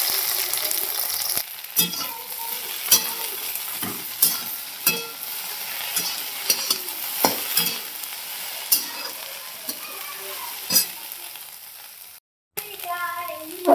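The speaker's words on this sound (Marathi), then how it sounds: "त्याच्यामध्ये लसूण सोनेरी लसूण थांबते आणि आता भेंडी टाकून घेते." Okra frying in a pan with golden-browned garlic, a steady sizzle broken by repeated scraping stirs, close and loud.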